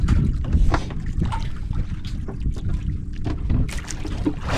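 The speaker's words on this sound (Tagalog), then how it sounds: "Sa bangka kakarating lang oh." A small boat pulls in close by, its low rumbling engine and water wash dominating, with bursts of wind buffeting the microphone and faint voices in the background.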